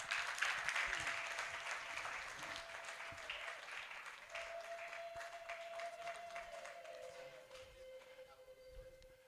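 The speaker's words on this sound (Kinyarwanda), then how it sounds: "twakomera umwana wacu amashyi" An audience claps warmly for a child at a wedding celebration, a sustained round of applause that starts strong and slowly tapers, heard from the middle of the crowd.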